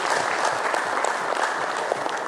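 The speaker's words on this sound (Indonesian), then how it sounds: "tepuk tangan untuk Pak Tikto" Sustained audience applause at an economic forum in Jogja, dense steady clapping from a full room with no talk over it.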